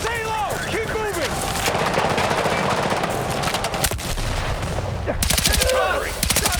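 Gunfire in the Battlefield 6 video game during a night raid, with bursts of rapid shots running throughout amid dense battle noise, heavy and close, under shouted voices.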